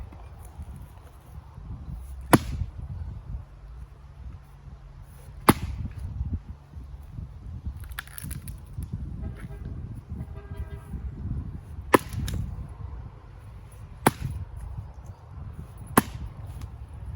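Sharp, loud axe strikes split big firewood rounds outdoors, about six spaced blows with a low rumbling engine or wind noise underneath between hits.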